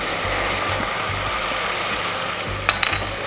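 Duck legs browning in a hot pan, a steady dense sizzle and crackle throughout, with a brief clink of utensil or pan near the end.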